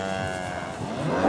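A bred cow from a herd of Charolais-bred second-calver cattle moos once, long and loud and close, with no talking.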